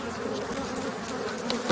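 Honey bees buzz densely and continuously around an opened hive during a brood and stores inspection, a close, steady swarm hum with no voices.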